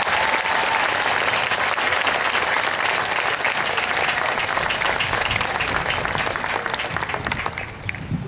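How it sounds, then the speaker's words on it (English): Sustained, loud audience applause at a community college commencement for students receiving awards, dense clapping throughout that eases slightly near the end. "Let's give these students a round of applause for the awards they've received."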